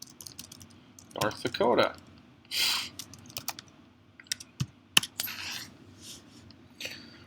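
Computer keyboard typing in irregular bursts of crisp key clicks, close and moderately loud, with a person speaking briefly in between.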